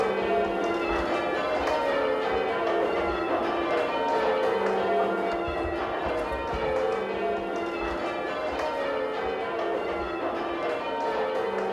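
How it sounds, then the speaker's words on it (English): Church bells rung by a local bell ringing group in a tower clang in a continuous overlapping peal, steady and moderately loud, with no talking. "I'm going to now partake in a spot of bell ringing with one of the local groups"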